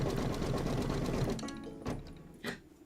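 An embroidery sewing machine stitching an applique block runs in a fast, steady mechanical whir, then slows and stops as the bobbin runs out, leaving a few isolated clicks and taps afterward.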